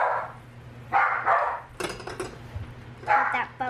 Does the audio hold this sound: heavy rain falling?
no